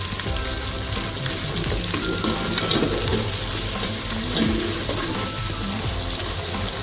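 Curry leaves hit hot oil for a Tamil vatha kuzhambu, giving a steady, loud frying sizzle that runs without a break from start to end, with faint stirring and clatter underneath.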